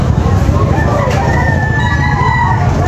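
A rooster crows amid a busy, noisy outdoor background with steady low rumble at a chicken market, the call drawn out and fairly distant.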